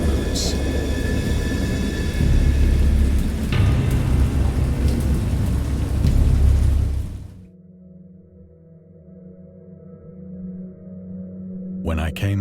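Heavy rain pours during a thunderstorm in the video game Dagon, a dense steady roar with a rumble of thunder, then abruptly cuts to a quiet low hum before a brief crackle at the end.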